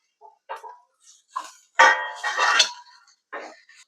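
Eggplant pieces tumble into a pan of lightly sautéed onion, giving several clattering, sizzling bursts of metal and food contact, close and moderately loud, with short pauses between the bursts.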